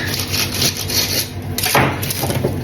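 Knife sawing through a fresh sourdough loaf, a close, continuous scratchy rasp of the blade cutting crust, steady throughout without pause and no talking.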